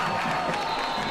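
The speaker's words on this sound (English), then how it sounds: "the San Angelo crowd making noise" A San Angelo Central Bobcats home crowd at a high school football game against the Midland Bulldogs roars on a fourth-and-two play, a steady wash of cheering and whoops heard at a distance.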